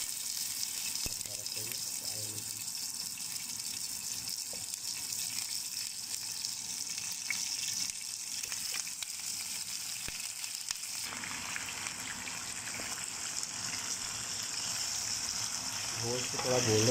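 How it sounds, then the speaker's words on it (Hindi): Mutton fries in hot oil in a karahi for a Peshawari charsi karahi, a steady low sizzle with watery hiss and occasional clatter, faint and continuous throughout. "सबसे पहले हम कढ़ाई में ऑयल डालेंगे ताकि गोश्त को हम सही तरह इसमें फ्राई कर लें"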